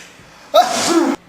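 A single sharp sneeze bursts out close to the mic, loud and brief, with a short breathy intake leading into it and quiet room hush before and after.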